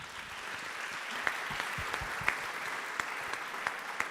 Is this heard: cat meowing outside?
no